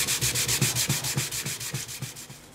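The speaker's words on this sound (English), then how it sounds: "get the sandpaper down and put on a sanding block and try and bring that inlay down flush" Sandpaper on a sanding block is worked over a wooden inlay to bring it down flush. The sound is a rapid, even back-and-forth rasping, close and steady, with about a dozen strokes.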